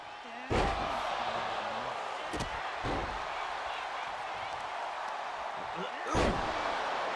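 A wrestler is slammed onto the mat at an XWF wrestling event, giving a few sharp impacts against a steady crowd roar, with a commentator's voice running underneath.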